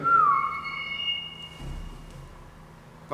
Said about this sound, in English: That's definitely a train now.